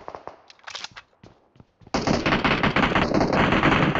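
Video game gunfire from an Uzi and a 1911 pistol: scattered single shots, then a dense, loud, continuous burst of rapid automatic fire.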